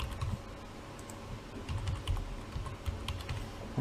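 Password being keyed in on a computer keyboard while setting up a Hikvision IP CCTV camera: a quiet, irregular run of soft key taps spread across the whole stretch, with no talking.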